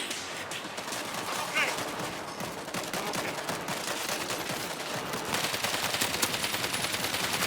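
Rapid gunfire crackles in a World War Z firefight in Jerusalem, dense bursts layered over game noise and shouted voices.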